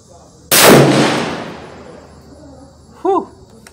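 A single loud rifle shot from a Thompson Center Compass, close by, with a long rolling echo that decays over about two seconds before a brief voice exclamation.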